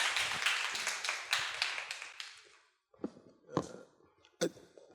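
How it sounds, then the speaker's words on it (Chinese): A small lecture audience gives a short burst of applause that fades out after a couple of seconds and is followed by a few scattered, isolated claps and taps. "那麻烦大家掌声欢迎"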